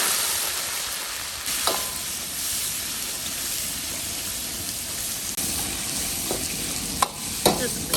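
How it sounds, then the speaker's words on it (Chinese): Fatty duck pieces stir-fry in rapeseed oil in a wok with a steady, close hiss of sizzling, broken by occasional sharp scrapes and clicks of a spatula. "把咱们的鸭子下锅炒。"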